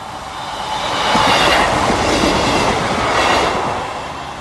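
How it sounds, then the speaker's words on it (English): An East Midlands Railway passenger train from Lincoln Central to Leicester rushes past a level crossing, a loud steady broadband roar of wheels and carriages that swells and holds through the clip, with no voices. "the 1440 East Midlands Railway service from Lincoln Central to Leicester, which today will terminate at Nottingham"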